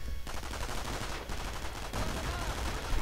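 Dense, rapid machine-gun bursts from a .30 cal MG in a World War II strategy video game, firing on Volksgrenadier and Grenadier infantry. The gunfire is loud and nearly continuous amid the clatter of battle.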